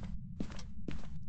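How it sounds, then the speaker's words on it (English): Footsteps in the Phasmophobia Christmas update, heard in the dark: three firm, evenly spaced steps on a hard floor over a low background hum, close and clear. "Oh, wow, the footsteps do sound better."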